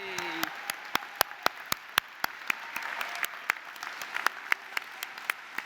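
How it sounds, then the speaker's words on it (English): Sparse individual claps ring out in a hall during a graduation ceremony at the Royal Festival Hall in London, a few hands clapping at a quick irregular pace over quiet room noise. "give yourselves a round of applause"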